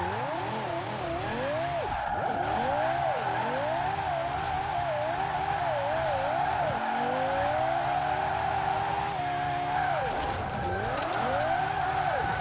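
A Lexus LFA in Forza Horizon 4 spins out, its high-revving engine note sweeping up and down as the tires skid and squeal, loud and continuous throughout with the pitch swooping across the spin.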